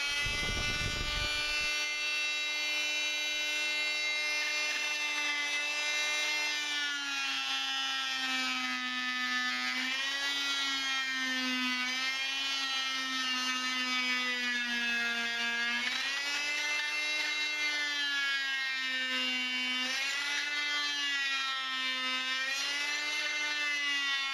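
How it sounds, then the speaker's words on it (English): A Dremel or oscillating saw whines steadily and loudly for the whole stretch while cutting out plastic ribs inside a ram air intake for a 99-04 Jeep Grand Cherokee 4.7, its pitch dipping and rising as it bites into the material. "that's where either the Dremel or the oscillating saw work real well to remove these pieces"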